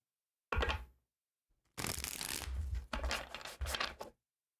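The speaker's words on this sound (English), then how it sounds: "One more shuffle here." Tarot cards are shuffled up close in short bursts: a quick riffle, a pause, then a longer papery shuffle broken into several rustling strokes, with no talk.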